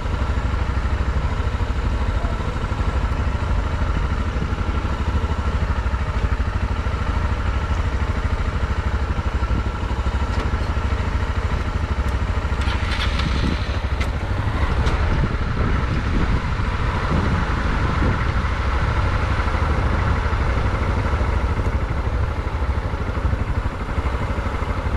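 A motorcycle engine idles steadily nearby at a police checkpoint in Recife, Brazil, a continuous low rumble with a few faint clatters and knocks midway.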